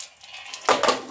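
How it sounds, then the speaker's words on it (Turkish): Dishes and pots clatter briefly at a kitchen counter in a village house, with a soft rinse followed by two quick knocks of metal and crockery. "Ne yapalım bulaşıkları yıkalım ya."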